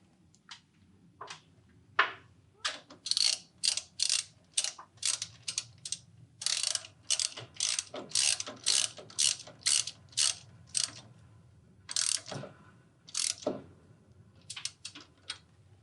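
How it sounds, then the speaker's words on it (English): A ratchet driving a 1/2 inch socket tightens set screws on a Safe-T-Winder spring winding tool, giving a long series of crisp, close clicking bursts in quick repeated strokes with brief pauses, and no talking. "we'll just tighten the set screws on the outside"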